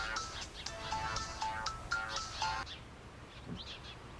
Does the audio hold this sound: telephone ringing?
yes